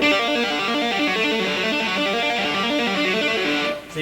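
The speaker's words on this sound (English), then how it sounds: "if I move that same lick to the second string, it would sound like this" Distorted electric guitar plays a fast shred lick moved to the second string, notes cycling in a steady repeating pattern, loud and close with no talking, cutting off just before the end.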